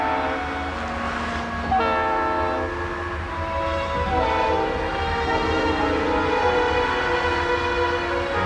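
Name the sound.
freight train whistle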